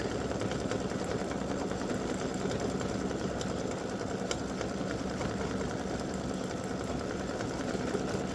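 A home embroidery machine stitches a braid design for an in-the-hoop mug rug, giving a steady, fast mechanical whir with dense rapid needle clatter that runs unbroken throughout.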